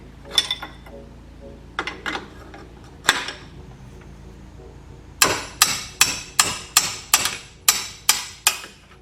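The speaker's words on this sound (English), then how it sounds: "I'll put my flat wrench on it and hit it with the sledge, and it should break loose pretty easily." A sledgehammer strikes a flat wrench on a BMW E46 M3 exhaust header bolt, sharp metallic clanks, a few scattered hits followed by a rapid run of about eight evenly spaced blows, close and loud.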